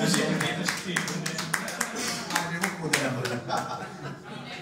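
An audience claps in scattered, uneven bursts, some strong and some sparse, with chuckles and talking mixed in throughout.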